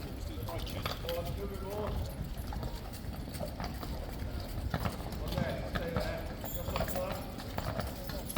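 A group of King's Guard cavalry horses walk nearby with continuous clip-clopping hooves on hard ground, with jingling tack and someone talking over the steady rhythm.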